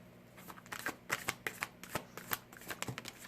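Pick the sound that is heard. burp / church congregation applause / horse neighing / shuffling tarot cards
shuffling tarot cards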